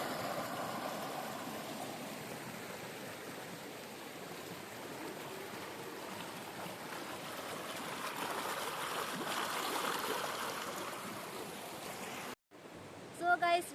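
A river flows between lush green banks, a steady soft rushing and trickling of water that continues alone for most of the stretch before a brief cut and a few louder bumps at the end.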